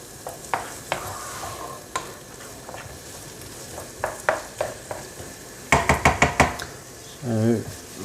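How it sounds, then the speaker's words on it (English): Onions for a lamb barley soup sizzle in a pan while a spoon stirs and knocks against it, scraping strokes repeating with a louder burst of clatter near the end. "the onion's just starting to cook now. Just turn the heat up a little bit just to get it sizzling a bit more."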